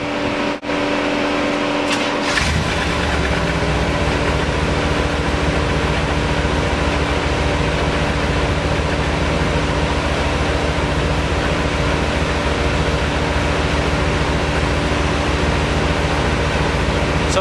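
A Corvette engine fitted with an Edelbrock carburetor starts and settles into a steady, loud idle, its continuous rumble and hum filling the space close to the microphone with no talking.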